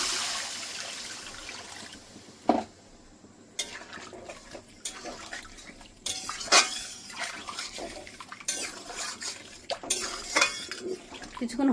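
Water pours into a pot of spiced mashed potato curry made with chana dal fritters, a steady splashing wash broken by several metal clanks and knocks of the pot and utensils, close by.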